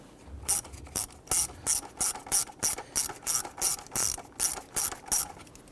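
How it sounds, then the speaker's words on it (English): A 1/4-inch ratchet clicks in quick, steady bursts while running in lower intake manifold bolts on a 2011-2021 Jeep Grand Cherokee 3.6L V6, close and clear with no talking. "Now I'm just going to run these in a little bit further with my 1/4-inch ratchet here"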